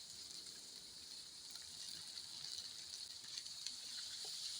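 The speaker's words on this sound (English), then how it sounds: "And the sweet corn as they fry to cook." Green beans, peas and sweet corn fry in a pan for coconut fried rice, making a faint, continuous high hiss of sizzling oil with light crackles throughout.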